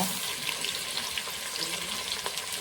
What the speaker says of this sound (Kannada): ಇವಾಗ ಫ್ರೈ ಮಾಡ್ಕೊಂಬರ್ತೀನಿ ಸ್ವಲ್ಪ ಎಲ್ಲ ತರಕಾರಿ ಮೆತ್ತಗಾಲ್ರಿ